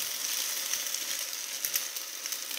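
Egg-soaked French toast fries in a hot pan with a steady, close hiss of sizzling and faint crackles, continuous and fairly loud, with no talking.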